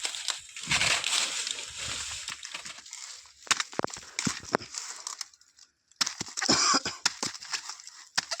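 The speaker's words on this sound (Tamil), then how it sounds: "தண்ணி தெரிச்சுக்கிறா" Water sloshing and splashing in bursts, with irregular spatters and a short quiet gap before another loud splash.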